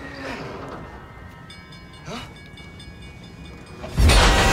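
A train rolls along the track in Need for Speed: The Run, a steady rumbling drone with faint tonal hums, swelling into a loud rushing roar near the end.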